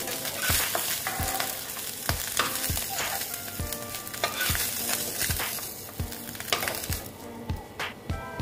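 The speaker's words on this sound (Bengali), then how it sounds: "মাছ ভাজা প্রায় হয়ে গেছে, প্রায় না, একদমই হয়ে গেছে" Fish frying in hot oil in a karahi on a gas stove, a steady loud sizzle broken by repeated sharp clanks of a spatula against the pan.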